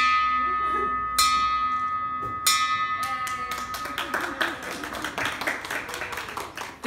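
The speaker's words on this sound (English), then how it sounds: "I also got to ring the bell to signify that I was finished with radiation" A bell rung at the end of radiation treatment in a clinic, struck twice with clear ringing decays, followed by a burst of clapping and cheering from the people nearby.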